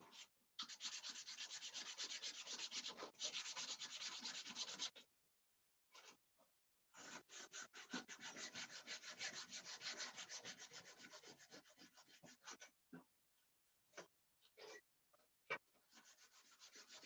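Wooden pencil holder pieces are sanded by hand in quiet, rapid rubbing strokes that come in bursts broken by short pauses.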